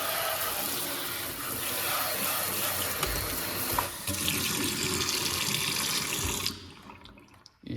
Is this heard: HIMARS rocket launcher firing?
no